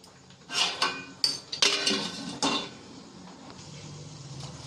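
Metal pot lid set down over a pot of water with bay leaves and cardamom, a few clanking knocks of metal on metal in quick succession, fairly close, followed by a quiet low hum.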